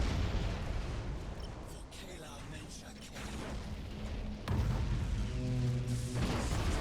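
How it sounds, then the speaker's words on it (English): Torpedoes launch at an enemy ship during a Battlefleet Gothic Armada 2 space battle: a dense stream of booms and mechanical thuds, with a louder burst of launches and a droning tone near the end. "I am going to get a bunch of torpedoes off on him though"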